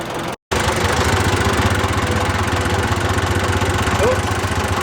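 Riding lawn mower engine idling with a steady low, pulsing throb and a slight knock, close and loud, after a brief cutout near the start, on a grass-cutting run where the clutch is strained and a tire is flat.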